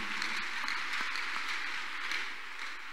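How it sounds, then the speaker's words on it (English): A church congregation claps together in a sustained, dense wash of applause that holds steady and slightly fades toward the end. "Let's clap unto God and appreciate him."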